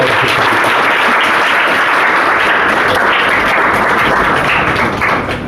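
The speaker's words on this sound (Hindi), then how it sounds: "तो यार इनके लिए भैया ताली बता दो कम से कम" A meetup crowd applauds a selected candidate with loud, continuous clapping from many hands, close and sustained throughout before easing slightly at the end.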